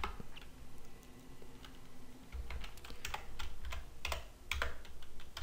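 Someone types a run of code on a computer keyboard, tapping keys in irregular bursts with close, crisp clicks, some louder strokes standing out, over a faint room hum.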